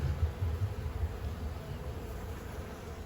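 Low, steady buzzing of honey bees hums close by at an open hive in spring, a dense drone that swells slightly at the start and holds on without pause.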